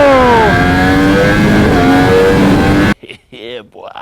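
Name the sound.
motorcycle accelerating on a road in Naples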